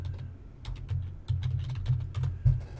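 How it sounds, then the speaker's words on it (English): Keystrokes on a computer keyboard typing a search phrase, a quick run of clicky taps in several bursts with brief pauses, close and moderately quiet, no voices. "if I type in here Firebug documentation"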